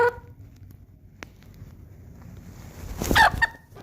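Chickens give short clucks and a brief louder squawking burst near the end, heard close in a quiet space with faint background noise.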